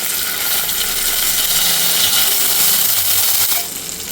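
Ground green chili paste fries in a hot pan with a steady, loud, broadband sizzle that stays even for several seconds, then drops off abruptly near the end.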